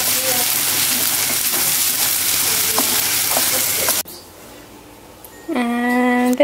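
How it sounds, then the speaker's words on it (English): An egg frying in a pan with other ingredients, a loud, steady sizzle that continues for several seconds before cutting off abruptly. "the last ingredient to add is an egg"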